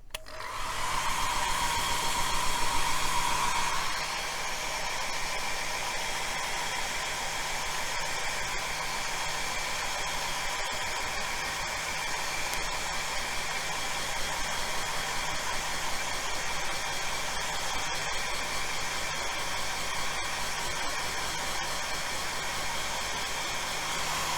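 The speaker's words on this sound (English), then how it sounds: "give my hairdryer a quick blast, just to dry it off" A hair dryer blows steadily and loudly for the whole stretch, its pitch shifting slightly after the first few seconds, with no voices.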